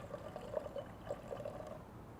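Warm water pours into a mixing bowl for dough, a gentle trickling splash that keeps up steadily for a couple of seconds, faint and close, with no talk.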